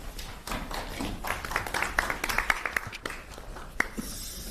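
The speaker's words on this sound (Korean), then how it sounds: "큰 박수 부탁드립니다" An audience at an indoor policy meeting gives scattered, moderately loud applause, with quick irregular claps lasting a few seconds.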